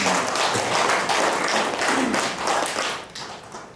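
Applause from a seminar audience at an academic conference, a dense patter of hand claps sustained throughout at fairly close range, with no speech over it.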